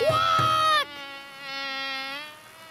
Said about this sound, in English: I can hear another noise. It's a buzzy bee!